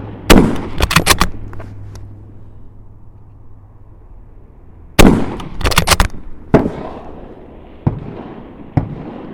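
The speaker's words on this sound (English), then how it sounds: "So now 10 rounds rapid with a compulsory reload." Bolt-action rifles fire rapidly at an outdoor shooting challenge in Thun: loud, sharp, close cracks in quick clusters with a pause for reloading, then several more spaced shots.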